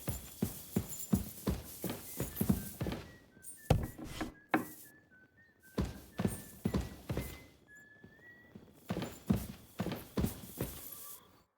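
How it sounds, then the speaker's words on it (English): Horse hooves clip-clop steadily in Kingdom Come Deliverance 2, a series of close, crisp hoof strikes in an even walking rhythm with brief pauses and a few faint tonal chimes between them. "Go and get your horse so we can get going."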